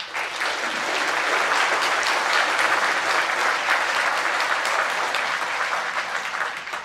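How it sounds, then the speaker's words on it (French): Audience applause for the fire brigade at a New Year's civic ceremony in Vigneux-sur-Seine, France: a steady, dense wash of hand clapping from a large indoor crowd, sustained evenly throughout and slightly tapering at the end. "Vous pouvez les applaudir."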